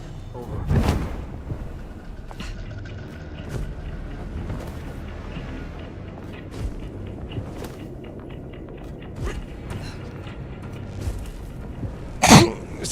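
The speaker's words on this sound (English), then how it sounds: "that sneeze came out of nowhere." A streamer sneezes once, sharp and loud near the end, over the quiet background of the PS5 game Vampire: The Masquerade Bloodlines 2, with an earlier throaty burst at the start.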